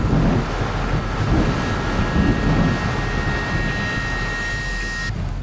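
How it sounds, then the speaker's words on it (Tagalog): Strong wind roars in heavy gusts with driving rain outdoors, a dense rushing noise of buffeting air, loud and constant throughout. "sa labas, pabugso-bugso pa rin yung lakas ng ulan tsaka hangin"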